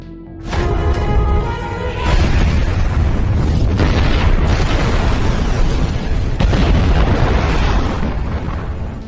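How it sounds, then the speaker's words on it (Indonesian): A massive explosion of a headquarters building erupts with a sudden deep roar that keeps booming and rumbling loudly for several seconds, swelling again partway through. "Nathan melarang, karena markas tersebut akan meledak sebentar lagi"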